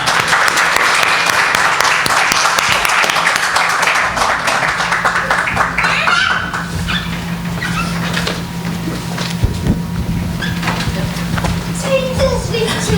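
An audience at a Toastmasters meeting applauds to welcome a toastmaster, dense clapping filling the room for about six seconds before thinning into scattered claps and room noise.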